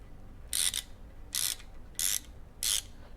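Palm ratchet loosening a bolt on a BMW i8 automatic transmission during a fluid change, four loud close bursts of rapid ratcheting clicks at a steady rhythm, separated by short pauses, no talking.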